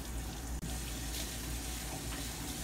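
Running water pours steadily from a faucet into a sink while washing dishes, a continuous rushing hiss with a brief break, close and even throughout.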